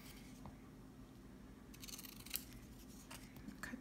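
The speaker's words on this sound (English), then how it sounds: "And I'm going to snip them off at an angle." Scissors snip the corners off a sheet of paper during origami star book crafting, giving a few quiet, short close cuts over a soft room hush.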